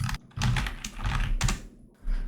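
A keyboard shortcut is typed on a computer keyboard while working in the Unreal Engine 5 animation editor: several quick, close, crisp bursts of key clicks separated by short pauses.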